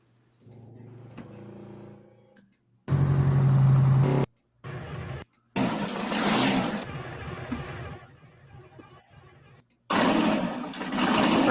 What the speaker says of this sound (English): It's a mean sounding engine.